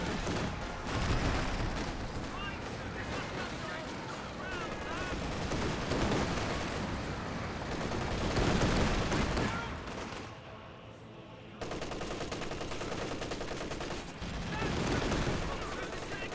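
A Centaur anti-aircraft tank firing in the World War II strategy game Company of Heroes 2, long bursts of rapid autocannon and gunfire blending into a thick battle din, with a commentator's voice over it.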